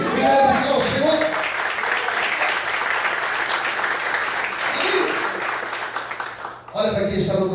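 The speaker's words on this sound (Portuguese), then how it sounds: "você pode aplaudir e glorificar ao Senhor" A church congregation applauds during a morning worship service, sustained dense clapping filling the space, with a voice speaking over it at the start and again as the applause cuts off near the end.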